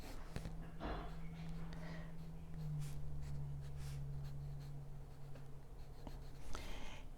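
A pencil scratches across paper as a head is drawn, soft, close, continuous strokes with faint breathing underneath.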